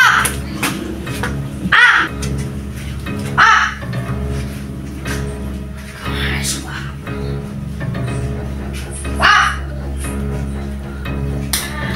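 Crows caw in several loud, separate bursts over a low steady hum, with people talking in the background between calls.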